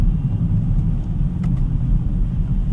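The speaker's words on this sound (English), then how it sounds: "Even does a rev match when you downshift." A BMW X5 xDrive50e M Sport drives with a steady, loud low engine rumble from inside the cabin, with a subtle rise in pitch as it downshifts.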